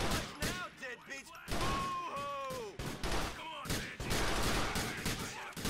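Gunfire in the video game Grand Theft Auto 4 The Lost and Damned, with dense bursts of shots and thuds filling the clip, mixed with in-game voices and talk.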